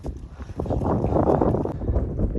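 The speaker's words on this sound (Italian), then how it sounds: "C'è un sacco di vento." Gusty wind buffets the microphone with low rumbling bursts, growing stronger after the first half second and staying rough throughout, outdoors near the Château de Malavieille in France.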